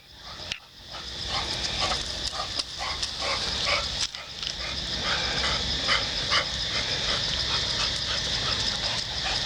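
Dogs outdoors on a street in front of a business, with scattered barks and yips over a hissing, busy outdoor ambience, moderately distant and recurring throughout.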